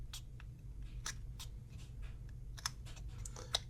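A knife cuts into a wooden Aragorn figure, making soft, sporadic scraping clicks and sharper nicks at close range in a quiet room.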